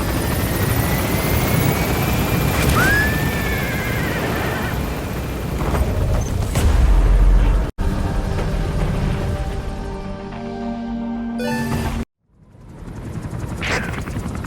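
Helicopter climbing in Metal Gear Solid 2, a loud steady rotor and engine drone that holds for several seconds, breaks off abruptly, then returns with other game effects layered over it.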